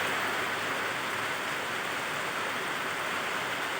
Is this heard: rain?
yes